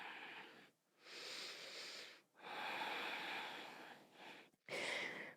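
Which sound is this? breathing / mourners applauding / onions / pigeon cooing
breathing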